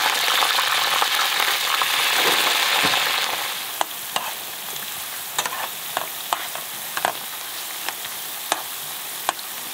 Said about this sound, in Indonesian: kan enak kan kita goreng kentang hati-hati